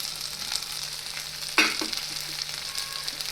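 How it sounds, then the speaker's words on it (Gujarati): Potatoes and green chillies frying in a pan for a Gujarati sambharo give a steady close sizzle throughout, with one sharp splattering burst midway as something hits the hot oil, and no talking. "હવે બટેટા આપણા થોડા કૂક થઈ ગયા છે, તો આપણે મરચાં એડ કરી દઈશું"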